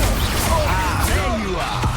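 A spell blast in the video game Hogwarts Legacy bursts out over dense, continuous battle noise, with whooshing magical sweeps and crashing impacts layered at steady, loud levels throughout.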